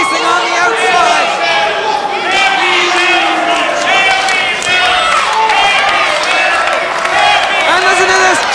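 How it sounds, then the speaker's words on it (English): A wrestling crowd chants loudly and continuously in a dense, roaring mass of voices, with rhythmic rising shouts repeating throughout. "And listen to this chant."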